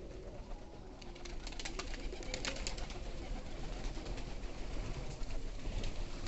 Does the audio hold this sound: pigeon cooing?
yes